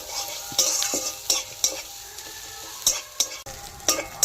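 Onion and crushed spices fry and get stirred in a pan until browned for chana masala, a steady sizzle broken by sharp, repeated scrapes of a spoon against the metal, close and fairly loud, with no talking.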